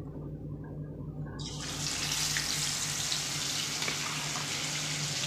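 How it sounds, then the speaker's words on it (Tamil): Chicken hits hot peanut oil in a kadai pan. A dense, hissing sizzle swells in after a quieter start and then holds steady and close. "அந்த கடாயில் நான் வந்து கடலெண்ணெய் சிக்கனை விட்டுருக்கேன்"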